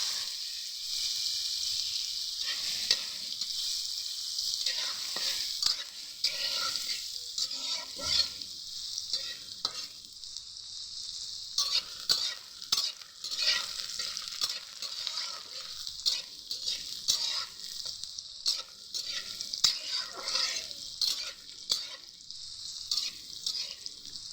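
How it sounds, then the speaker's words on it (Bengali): Steady crackling sizzle of yardlong beans frying in a pan, with scraping stir sounds coming and going throughout, close and fairly loud. "বরবটিটাকে ভেজে নেব।"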